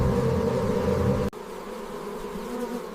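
Foraging bees buzz in a continuous, dense drone across a valley landscape, steady and fairly loud with a brief dip partway through before the hum resumes.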